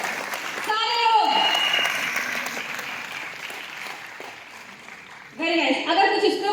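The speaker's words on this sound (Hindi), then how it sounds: "एक बार जोरदार तालियां सभी के लिए, जोरदार तालियां" Audience applause at an entrepreneur success-story event, rhythmic clapping that rises and falls with voices talking over it, swelling louder again near the end.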